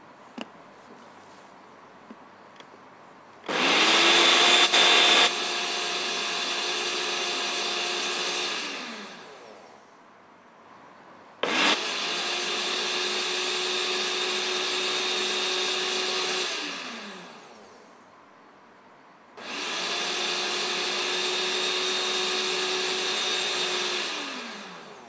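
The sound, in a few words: blender blending watermelon and beetroot juice with mint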